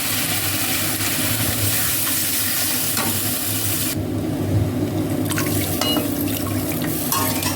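Water poured into a pan of frying spice paste for a coriander-leaf tilapia curry, a loud close sizzle and bubbling with stirring, the hiss dropping briefly as the liquid goes in, no talk.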